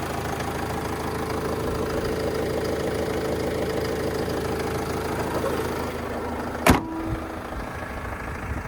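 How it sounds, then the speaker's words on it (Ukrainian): A 2009 Opel Vivaro passenger van's 2.5-litre diesel engine idles steadily with a low, knocking rumble, then a sharp clunk like a door or hood slamming, after which the engine noise drops away. "гарна робота, дійсно гарна робота мотора"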